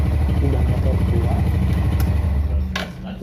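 Idling engine of a Yamaha Vega R New motorcycle, a steady close rumble that drops slightly near the end, with a couple of brief clicks.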